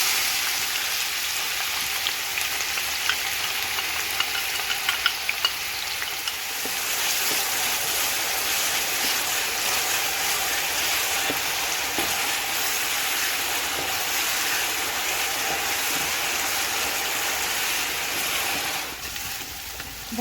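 Onions frying in oil for a chicken and okra curry: a steady, fairly loud sizzle and crackle that runs for about twenty seconds before easing slightly near the end, with no one speaking.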